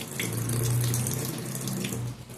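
Tap water running steadily into a sink while neem leaves are rinsed, a close, continuous splashing rush with no talking.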